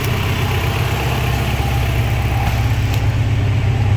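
A Honda Civic with an H2B engine swap idles steadily, a constant low rumbling hum with a faint regular pulse, close and alone with no talk.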